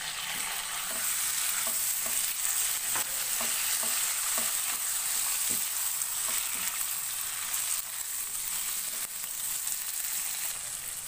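Boneless chicken strips frying with garlic and ginger in a pan make a steady, hissing sizzle, with a few soft clinks of stirring now and then and no voices.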